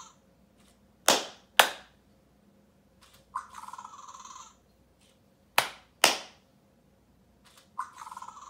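Two pairs of sharp, close hand claps ring out, each pair followed by a short electronic chirping reaction from a Fingerlings Untamed Raptor toy, in an otherwise quiet room.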